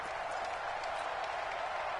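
Dense, continuous roar of a large football crowd inside a domed stadium, steady and loud with no breaks, like a wall of cheering and clapping during a tense goal-line play.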